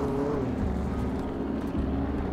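A 4x4 vehicle in the video game Alan Wake drifts with a steady, loud low engine drone and rumbling tire noise that runs unbroken throughout.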